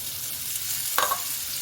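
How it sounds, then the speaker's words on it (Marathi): Coriander vadi fry in oil on a flat griddle, giving a soft, continuous sizzle with a brief louder crackle and stir partway through. No voices are heard. "तर आता हे इथे तवा ठेवला, तव्यावर हे ठेवलं,"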